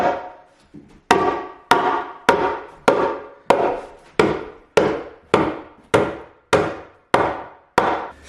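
Hammer blows at a steady, evenly spaced rhythm, about thirteen sharp strikes on wood with ringing decay, close and loud, made while expanding a kitchen doorway and putting up drywall.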